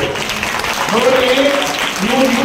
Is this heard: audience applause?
yes